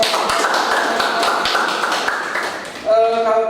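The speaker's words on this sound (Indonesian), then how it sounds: "Kasih tepuk tangan untuk Bapak." Applause for a speaker at an Indonesian teachers' workshop, a dense patter of many hands clapping steadily for nearly three seconds before a voice cuts in at the end.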